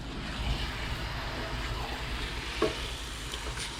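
Ube kalamay being stirred and cooked outdoors, with a continuous soft sizzle and scraping churn and one brief louder knock partway through.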